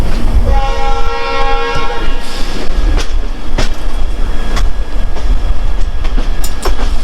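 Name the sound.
train entering a station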